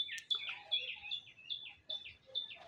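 A young pigeon chick being hand-tamed gives repeated thin, high peeping calls in quick irregular succession, faint and fairly close, with no talk over them.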